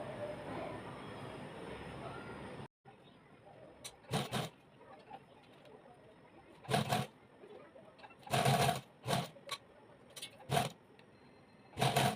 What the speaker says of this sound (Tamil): அதுக்கப்புறம் ஃபூட்டர் இறக்கி எப்பயும் போல் ஸ்டிச் பண்ணலாம்.